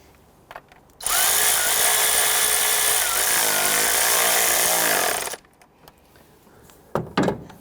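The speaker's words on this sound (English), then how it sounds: "Let's go ahead and snug that down." A power tool, likely a cordless drill or driver, runs steadily for about four seconds as it tightens an ignition coil bolt on a 3.5L V6 engine in a 2011–2017 Nissan Quest, its pitch dipping under load, followed by faint clicks.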